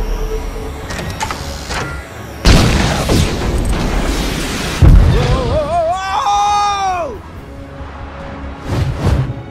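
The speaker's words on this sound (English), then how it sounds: "I'm reading an incoming ship. Watch out! It's about to open fire!" An incoming ship opens fire in Lego Marvel Super Heroes, two loud booming blasts hitting a few seconds apart, followed by a rising and falling whine and a rumbling tail.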